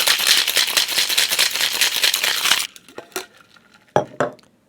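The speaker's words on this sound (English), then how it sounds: "Now I'm going to ice and shake these one at a time." Cocktail shaken hard with ice in a shaker: a loud, rapid rattling for about two and a half seconds, then it stops, followed by a few separate clinks and knocks of ice and metal.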